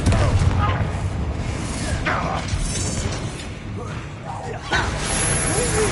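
Explosive spell blasts from the video game Hogwarts Legacy, Confringo and Bombarda, boom and crash repeatedly over dense, loud combat noise and game music, with voices calling out during the fight.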